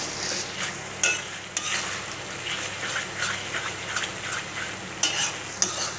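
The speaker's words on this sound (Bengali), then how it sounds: "অনবরত নেড়ে যেতে হবে যতক্ষণ না পর্যন্ত কাঁচা রসুনের গন্ধটা না যায়" Garlic paste sizzles in a pot for mutton curry while being stirred continuously, a steady close frying hiss broken by a few sharp scrapes of the spoon against the pot.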